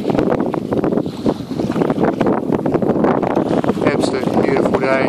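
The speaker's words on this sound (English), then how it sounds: "Sails full of wind." Steady roar of wind filling a sailboat's sails and buffeting the microphone on open water in Hawke Bay, loud and continuous, with a voice briefly audible near the end.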